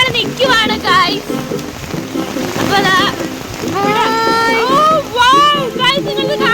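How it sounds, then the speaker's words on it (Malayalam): Heavy downpour at Trivandrum Zoo among animal enclosures: a steady hiss of rain persists beneath loud, near voices talking and exclaiming throughout. "നല്ല മഴയാണ്."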